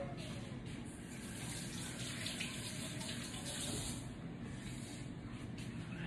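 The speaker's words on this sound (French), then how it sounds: "Je vais aller me laver les mains." Kitchen tap running steadily while hands are washed during cooking, a continuous close hiss of flowing water without pause.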